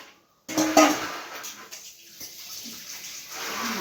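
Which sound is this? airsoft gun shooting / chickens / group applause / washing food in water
washing food in water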